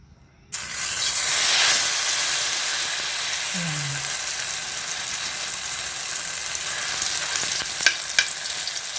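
Eggplant omelette (tortang talong) dropped into a hot pan with oil, setting off a loud, steady sizzle that starts abruptly and carries on with crackles and a few sharp pops near the end.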